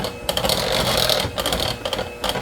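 An electric hand mixer whisks from-scratch mayonnaise cake batter in a bowl, giving a close, steady motorized whir with rattling, buzzing bursts throughout and no talking.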